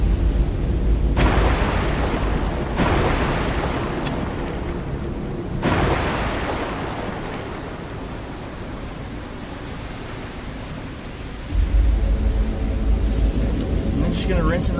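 TLAM cruise missile launch in the submarine game Cold Waters, a loud broadband roaring rush with sharp bursts that swells and fades over several seconds, then a fresh surge of roar near the end.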